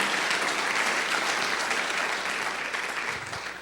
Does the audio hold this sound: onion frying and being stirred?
no